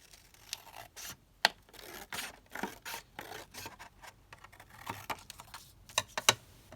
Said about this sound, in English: And if I just snip it here, and then I'm just going to snip it down this edge slightly.